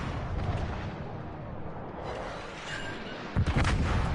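Heavy naval guns firing from warships in World of Warships Legends, a steady low rumbling barrage throughout with a sharper, louder boom near the end.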